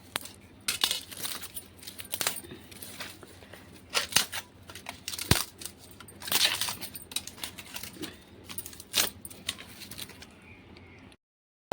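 Garden scissors snip through yellowing plant branches during pruning, a series of sharp close clicks and crunchy cuts spaced irregularly, with faint birds cooing in the background.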